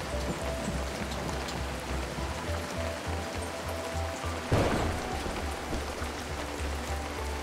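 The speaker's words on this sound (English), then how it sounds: "Mother Nature delivered a hailstorm that just made conditions even more extreme" Hail and heavy rain pelt steadily during the Roof of Africa off-road motorcycle race, a dense continuous patter with a low rumble underneath and a brief louder burst midway.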